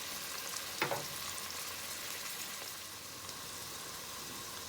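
Garlic, onion and meat fry quietly in a pan, a soft continuous sizzle with one brief clatter near the start, faint and steady, with no voices.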